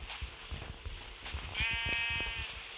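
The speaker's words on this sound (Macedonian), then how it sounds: "Чекај овца, ајде доле, не ме нервира." A farm sheep in a stable gives one drawn-out bleat midway, fairly faint and close, amid low shuffling and rustling noise.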